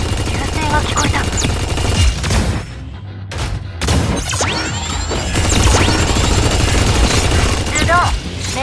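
Bursts of mech-battle gunfire and crashing impacts from the video game Super Mecha Champions, loud rapid volleys with whooshes and brief gaps, dense game effects throughout and no voices.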